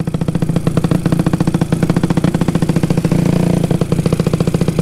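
A motorcycle engine modified to sound like a tractor chugs loudly and close up in a rapid, steady pulse of low, clattering beats that swell slightly midway, with no voices over it.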